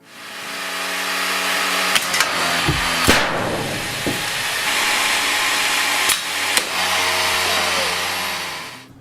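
BB gun shots striking a grinding disc, heard as a few sharp, separate cracks spread over a steady loud background hum, close by.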